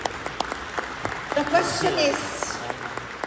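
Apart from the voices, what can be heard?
audience applause for the team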